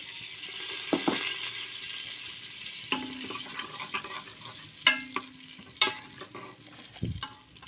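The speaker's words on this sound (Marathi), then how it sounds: "तर आता आपलं बटर आणि तेल मिक्स झालेलं आहे. तर त्याच्यामध्ये मी हे 2 चमचे जिरे घालते." Cumin seeds sizzle in a mix of butter and oil in a pan, a continuous soft crackle with a few sharp stirring scrapes and clinks, close by and without any voices.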